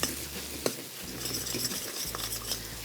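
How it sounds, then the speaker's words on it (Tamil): Jaggery being stirred into a bitter gourd masala in a pan, with soft sizzling and the spoon scraping and clinking against the metal in quick uneven strokes, close by and alone. "இந்த வெல்லத்தை போட்டு ஒரு 2 நிமிஷம் இதை நல்லா மிக்ஸ் பண்ணுங்க."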